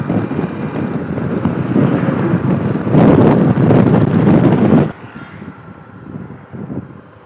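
A Hero Xtreme 125R motorcycle speeding along a highway, heard as loud, steady wind-buffeted roar of riding that swells around the middle, then drops abruptly to a quieter rumble near the end.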